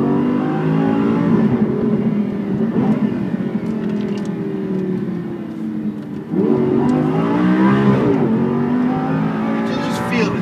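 Lamborghini Superleggera V8 engine revving hard toward 9,000 RPM, a loud sustained roar that rises and falls with a sharp surge midway, while people talk over it.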